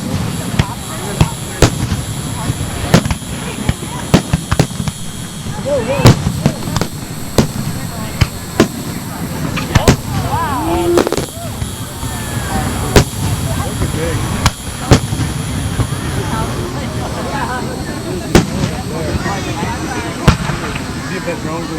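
Liberty Fest fireworks fill the air with steady crackling and repeated sharp bangs over a crowd, with people talking and cheering throughout the long display.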